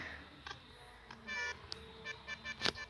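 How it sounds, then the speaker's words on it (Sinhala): Several short bus horn toots and beeps in a video game sound in bursts over a quiet background, with a louder blast near the end. "ඇත්ත බස් වල වගේමයි හෝන් එක."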